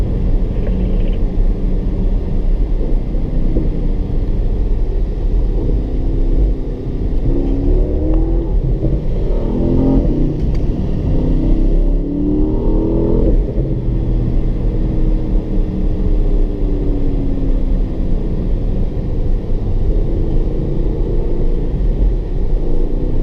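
A Porsche Panamera GTS lapping a race track, its engine a loud continuous rumble heard from inside the car, rising and falling through shifts and throttle changes across the whole stretch.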